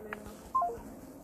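A few quick telephone dialing tones beep in succession over a soft background hum, brief and moderately loud.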